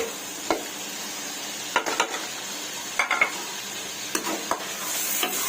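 Pickle masala with tomatoes and green chilies sizzles in a hot pan for an eggplant and potato dish, with intermittent scraping clatters of a spoon stirring, a few strokes spaced irregularly over the steady fry.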